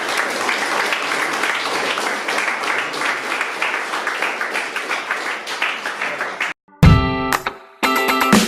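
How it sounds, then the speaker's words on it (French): Audience applause for the speakers at a panel on territorial resilience: sustained, even clapping for over six seconds, then it stops abruptly and electronic music-like tones take over. "il y a applaudi bien fort tous les intervenants"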